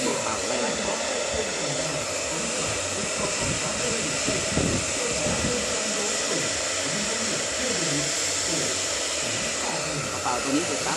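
Hot air blower roaring steadily at close range while heating the edge of a projector lamp, a continuous loud breathy hiss with someone speaking underneath.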